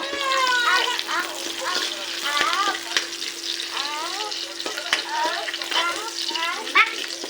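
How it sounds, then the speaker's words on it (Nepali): Onion goes into hot oil where cumin seeds have already turned red, giving a steady sizzle with stirring scrapes, while voices chatter over the frying. "तेल चाहिँ हाम्रो यतिको भइसकेको छ साथीहरू जिरा चाहिँ रातो रातो भइसकेको छ अब हाल्नुपर्ने हुन्छ प्याज"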